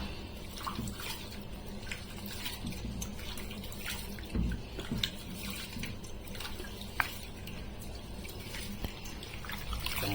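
Water is poured into a pot of rice and spices while khichdi cooks in a home kitchen, a steady splashing pour over a busy, noisy room background with a few clinks.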